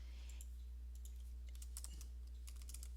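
Steady typing on a computer keyboard, light rapid clicks in uneven bursts, close and fairly faint over a low constant hum, with no talking.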